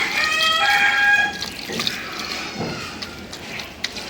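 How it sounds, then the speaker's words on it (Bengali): Water is poured into a cooking pan of chapila fish coated in mustard oil in a short splashing rush, then fades to a soft hiss with a few faint drips. "এখন একটু পানি দেব"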